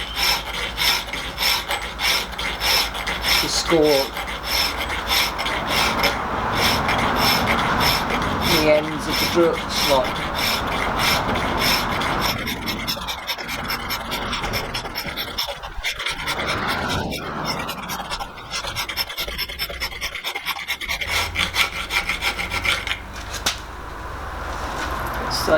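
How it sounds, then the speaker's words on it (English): Rasping strokes of a small flat bastard file on a metal hasp for a rice chest, close and steady, repeating in an even back-and-forth rhythm with a brief spoken remark partway through. "I'm just going to file to those to give the staple clearance. I'm just using a small flat bastard"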